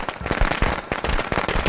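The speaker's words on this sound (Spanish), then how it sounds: "tenía más fuegos artificiales, Jenny." Fireworks going off in the video game Friday the 13th, a dense run of sharp firecracker-style bangs and crackles repeating rapidly at close range with no talk over them.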